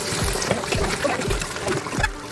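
Hot water pouring into a spiced dough mixture for ghughute, a steady close splashing trickle with soft bubbling, heard alone.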